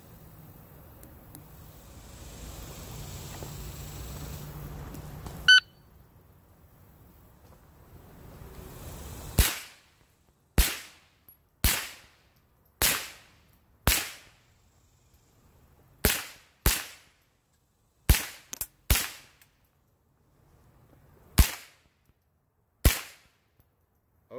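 A .22 caliber rifle fired less than two feet from a shot timer: a string of about eleven sharp, loud cracks at irregular intervals, each with a short decaying tail, after a quiet stretch of faint background hum.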